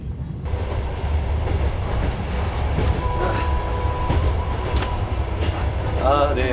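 A Mongolian passenger train with seat and sleeper cars rolls along the rails with a steady low rumble and faint clatter, heard from inside the carriage, with a soft squeal toward the end.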